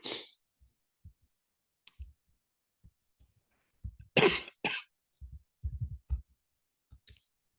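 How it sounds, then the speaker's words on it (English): A person coughs several times in a quiet lecture room, with sharp isolated bursts scattered among soft clicks and faint movement, close to the microphone. "because I know I'm coughing a lot"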